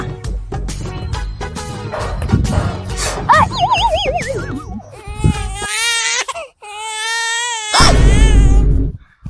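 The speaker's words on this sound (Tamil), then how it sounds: "இங்க ஒரு குழந்தை அழுகுற சத்தம் கேக்குது" An infant cries loudly and close by in repeated wavering wails and sobbing bursts, with breaks between them, after some brief talk at the start.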